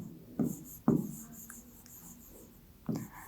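Pen or chalk writing during a class 8 maths lesson, with a few distinct close strokes and taps separated by quiet pauses.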